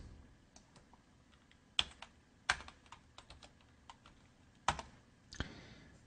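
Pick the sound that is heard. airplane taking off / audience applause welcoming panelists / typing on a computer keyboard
typing on a computer keyboard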